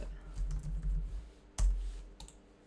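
Computer keyboard keys click in an uneven burst of typing close by, with one louder tap partway through and a few lighter clicks after it.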